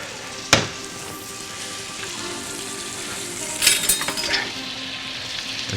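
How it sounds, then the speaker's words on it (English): Fresh garlic and vegetables sizzling in a hot pot for a meatball and lamb stew, a steady close frying hiss with a sharp clink at the start and a burst of stirring and utensil scrapes midway. "Let's throw some fresh garlic in it with the veggies. Is it hot yet? Look at that, the hot sound."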